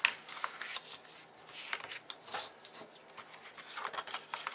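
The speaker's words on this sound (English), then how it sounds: "you're going to just fold on the score lines to make the boxes" Cardstock is folded along score lines to form a small box, giving close, quiet papery rubs, creases and scrapes in irregular bursts.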